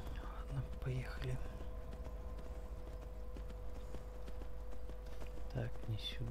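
Horse hooves gallop in Skyrim, a steady, quiet rhythmic clatter that runs throughout while someone speaks briefly at the start and again near the end.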